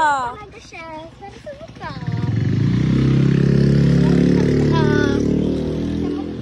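A voice calls out briefly, then a motorcycle roars up close and passes, its engine noise swelling loud and lingering as it goes by.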